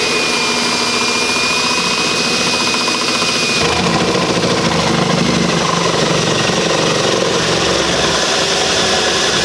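A Milwaukee power drill with an adjustable hole cutter whines steadily and loudly up close, its motor pitch shifting slightly partway through as the cutter bites in.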